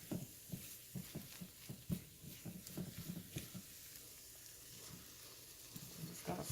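Eggs scrambled in a frying pan on a stove, with a soft, steady sizzle and scraping stirs that come as quick rhythmic strokes, close up and fairly quiet.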